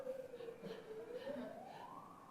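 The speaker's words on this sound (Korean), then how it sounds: "지금 옆에 또 사이렌이 울려가지고." A siren wails outside near an indoor live broadcast, its tone rising and falling in a steady, continuous sweep at moderate loudness and not far off.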